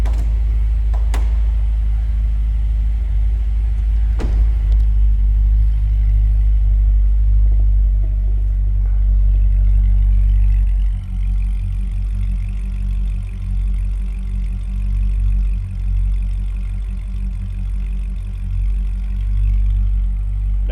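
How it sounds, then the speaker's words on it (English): A 2007 Chevrolet Corvette Z06 sits idling with a steady, deep, rumbling exhaust note, continuous and fairly loud throughout, with a few light clicks early on and no talking. "Nice deep throaty exhaust note."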